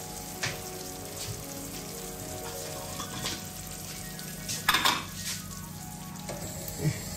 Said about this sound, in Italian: ha ripreso il bollore, abbassiamo il gas